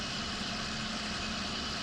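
A John Deere tractor engine in Farming Simulator 19 idles steadily with a deep, even rumble that holds constant throughout, with no voices.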